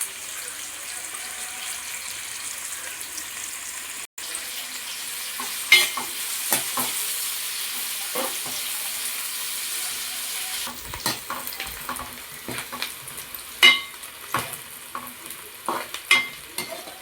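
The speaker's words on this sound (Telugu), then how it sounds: "ఈ నూనె వేసుకొని ఉల్లిపాయ పచ్చిమిరపకాయ బాగా వేయించాలి" Onions and green chilies fry in oil for a fish curry, a steady sizzle with frequent scraping stirs of a spoon in the pan, growing busier and more clattery toward the end, with no talk.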